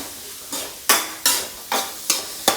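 Vegetables, carrot among them, frying in a pan, with about six evenly spaced, sharp stirring scrapes over a steady sizzle.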